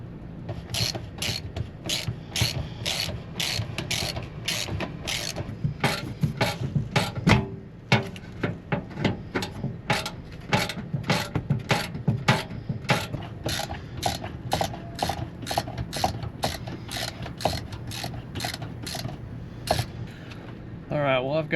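A hand ratchet wrench clicks rapidly and steadily, close up, in repeated runs while bolts are backed out from under a sagging camper floor, with brief pauses between strokes and occasional speech.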